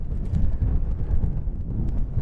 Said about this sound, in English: Wind is strongly left to right.